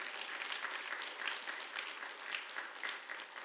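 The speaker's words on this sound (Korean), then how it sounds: "우리 박수 한번 해주시기 바랍니다." A church congregation at an evening revival service applauds, a dense, continuous wash of many hands clapping, steady and moderately distant, with no speech over it.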